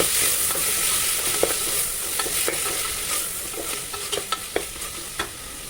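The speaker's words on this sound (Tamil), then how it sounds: "தக்காளி போட்டுட்டு அதையும் நல்லா வதக்கிடுறோம்" Chopped tomatoes and ginger sauté in a hot pan for vegetable rice, a loud, continuous sizzle broken by the scrape and clack of a spoon stirring, close up and without any voices.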